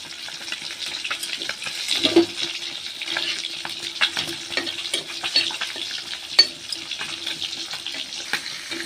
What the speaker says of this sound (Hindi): चलतु आलू को भी एबे भाजी नबा